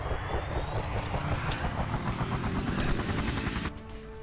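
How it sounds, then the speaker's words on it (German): A helicopter flies in the emergency-services video game Emergency 2012, its loud, steady rotor chop joined by a rising turbine whine that cuts off abruptly near the end, leaving a lower hum. "Die letzten zwei Helikopterflüge für heute."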